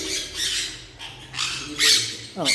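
Loud, harsh squawks from a pair of expensive caged parrots in a pet shop in Thiruvananthapuram, coming in several close bursts with faint talk behind.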